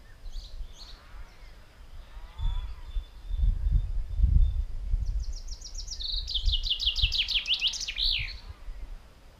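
A chaffinch sings one full song outdoors, a rapid, bright descending trill that ends in a flourish. It is preceded by faint, scattered calls, over low rumbling and thumping from nearby work on an Ursus C-360 tractor.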